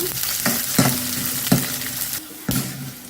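Green chillies, coriander seeds, urad dal and garlic sizzle in a hot pan, a steady frying crackle broken by several sharp scrapes and knocks of a stirring spoon against the metal, close and fairly loud.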